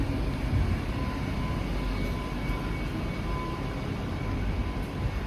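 A train pulls into a platform at Plymouth railway station, a steady broad rumble of engine and rolling wagons holding at a constant loud level throughout, with no voices.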